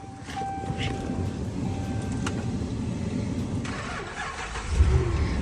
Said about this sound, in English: There we go, cranks right up, no issues at all.